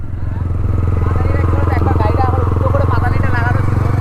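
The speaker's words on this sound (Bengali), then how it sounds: "গাইস এই বাইকটা চালাচ্ছি কেমন লাগছে" Modified Yamaha R15 v2 motorcycle being ridden, its engine droning steadily and loudly throughout, with a voice talking over it.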